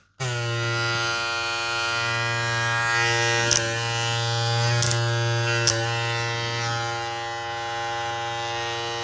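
A Suprent Black Obsidian brushless electric hair clipper with a fade blade hums steadily and loudly from close by for the whole stretch, a strong harmonic motor drone with a few faint clicks, and no voices over it.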